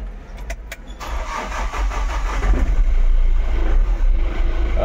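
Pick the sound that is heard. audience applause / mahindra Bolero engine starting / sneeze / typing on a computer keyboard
mahindra Bolero engine starting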